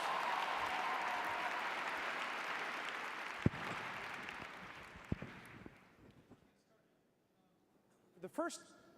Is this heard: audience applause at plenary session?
yes